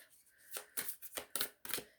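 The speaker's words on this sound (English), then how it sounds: "They're hard to shuffle because they're a really thick cardboard." Thick cardboard playing cards being shuffled, five or six separate rough scraping riffles in quick succession, close and fairly quiet with short pauses between them.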